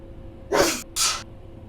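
A single person's sneeze, close and loud, with a sharp inhaled burst followed by a brief gap and a second breathy expulsion, over a quiet background.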